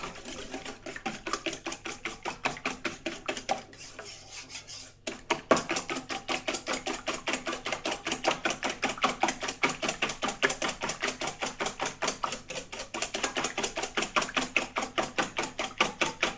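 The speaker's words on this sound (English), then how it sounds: "so we put the eggs in a bowl here. Give them a little whisk." Eggs are whisked in a bowl, a rapid, steady clatter of whisk strikes against the bowl that pauses briefly and then resumes at a fast, even rhythm, fairly close by.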